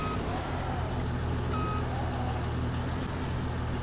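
A combine harvester in Farming Simulator 22 backs onto a trailer, its steady reversing beeps repeating over a loud, constant engine drone.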